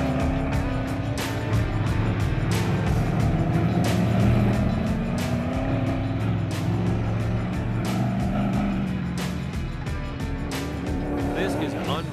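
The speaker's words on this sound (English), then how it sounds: "Then we hit the woods. Yeah, we're testing the shock absorbers all right." An off-road vehicle jolts over rough wooded terrain in the Nevada wilds, its engine roaring steadily up close while the suspension bangs and rattles in repeated sharp knocks, with voices talking over it.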